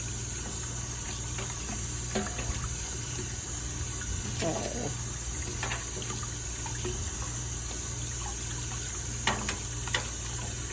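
Cold water runs from a tap at an outdoor garden wash station used for rinsing harvested salad greens, a steady hiss continuing throughout, with a few brief knocks and a short spoken word.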